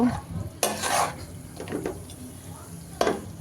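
Beef being stir-fried with spices in a pan for a winter-vegetable khichuri, with a few sharp scraping stirs of a spoon against the pan over a low background sizzle.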